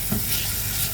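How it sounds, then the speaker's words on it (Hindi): Two tablespoons of finely chopped onion fry in a pan, giving a soft, steady, hissing sizzle that lasts one brief second with no voices. "ये मैं इसको डाल के हल्का सा इसको साइड में फ्राई कर लूँगी।"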